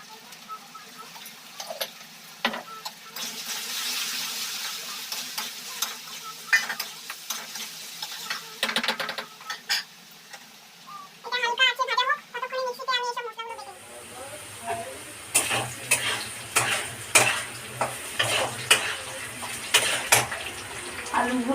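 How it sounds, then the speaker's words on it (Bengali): Potatoes with salt and turmeric fry in hot oil, giving a steady sizzling hiss broken by repeated scraping stirs and clinks of a utensil against the pan, close and moderately loud. "লবণ হলুদ দিয়ে আলুটা বেশ ভালো করে ভেজে নেবে।"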